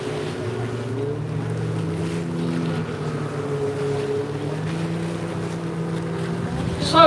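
Powerboat engines idle and run at the start of a powerboat race on open water, a steady layered drone of several motors with wind and water noise, continuous and fairly close, rising into a brief louder burst at the end.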